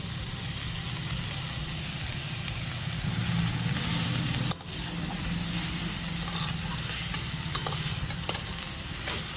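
Fenugreek greens with potato and eggplant pieces sizzle steadily in a pan while a utensil stirs and scrapes through them. A single sharp knock lands midway, and no one speaks.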